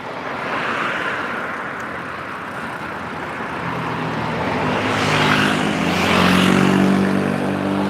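Steady road and engine noise from a vehicle on the move, riding with a cyclist on tour in Taiwan, a continuous broad rumble that gradually grows louder with a low droning tone appearing partway through.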